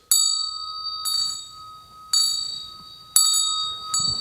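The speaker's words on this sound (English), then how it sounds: "I could strike the bell with the wand" A ceremonial bell struck with a wand rings out four times at roughly one-second intervals, each strike a bright, sustained metallic ring that decays slowly before the next.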